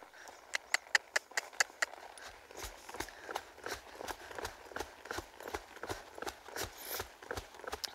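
A young horse walks under a rider in an arena, its hooves striking in a quick, regular clip-clop rhythm that is sharp and close at first, then softer and steady.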